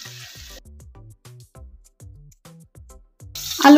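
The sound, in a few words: potatoes frying in mustard oil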